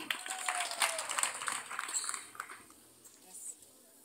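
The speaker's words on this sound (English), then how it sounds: "Zuena, clap for cohort two." Audience clapping at an award ceremony for cohorts of beneficiaries, a fairly faint spread of applause that thins out toward the end, with voices talking over it.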